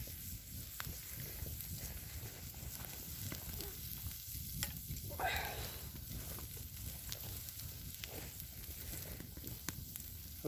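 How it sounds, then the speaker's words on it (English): Kielbasa sizzling on a hot rock above a Dakota hole fire outdoors, a soft steady crackle and fry with occasional pops, heard close and quiet with no talk. "so we got some of that kielbasa down there cooking"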